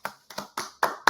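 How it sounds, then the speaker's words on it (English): Five distinct hand claps ring out one at a time in an even, slow rhythm as virtual applause at an online awards show, close and crisp with brief decays between. "please give a virtual applause to the heart and soul of the Clio Cannabis Awards program, Michael Kaufman and Rachel Krug"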